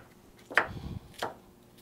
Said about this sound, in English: I cut my onions up, I cut them through the middle, and then I chop them from the side